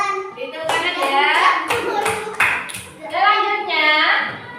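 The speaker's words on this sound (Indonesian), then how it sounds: "Beri tepuk tangan ya." Children in a classroom chant together while clapping their hands in short, sharp bursts, their voices loud and close and mixed with the claps.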